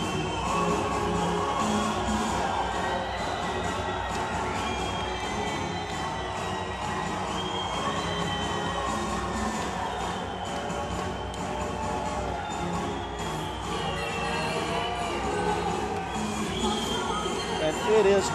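A large MMA arena crowd, many fans waving Albanian flags, cheers and shouts continuously at a championship fight, a loud, dense roar with scattered whistles and yells and no break.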